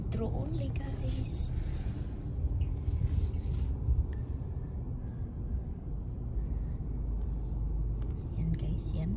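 A car idles and rolls slowly through a restaurant drive-through in Corydon, Indiana, its steady low engine rumble continuous and close throughout, with faint scattered voices over it.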